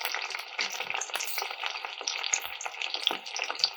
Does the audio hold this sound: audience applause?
no